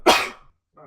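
A single sharp sneeze, close and abrupt, followed by a brief pause and the start of a voice.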